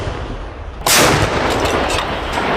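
A Russian D-30 howitzer fires a single sudden, loud artillery blast that rolls into a sustained booming rumble, heard alone over a continuous noisy background.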